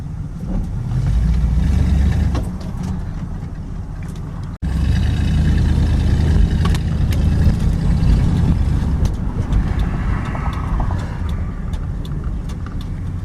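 A car with a 318 small-block Mopar engine pulls away at about half throttle, its loud, rough exhaust rumble swelling and holding steady close by after a brief cut, with no talk.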